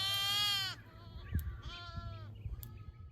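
Jacob sheep bleat on irrigated pasture, one long loud cry followed by a couple of shorter, fainter bleats close by.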